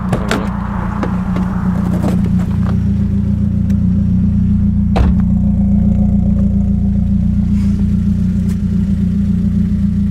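A Ford Focus RS drives with its engine droning steadily and loudly throughout, carrying a low rumble, a light rattle and clatter, and a brief sharper knock partway through, with no talking.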